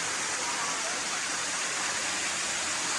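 Water pouring off limestone rocks at Benta River Falls in Westmoreland, a steady, dense, full-bodied roar that stays loud and unbroken throughout.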